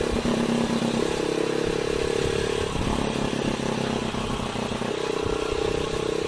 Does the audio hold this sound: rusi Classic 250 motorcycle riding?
yes